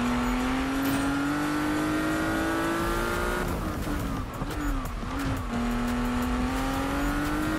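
Front-wheel-drive car in Need for Speed 2015, its engine droning loudly as it accelerates, the pitch rising steadily, dipping and wobbling through a shift or slide, then climbing again.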